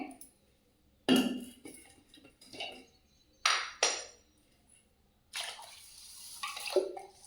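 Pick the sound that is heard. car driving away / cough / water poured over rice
water poured over rice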